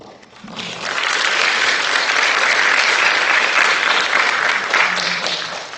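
Audience applause at a city council candidate forum rises quickly and holds as a dense, steady wash of clapping from a fairly large crowd, fading slightly near the end.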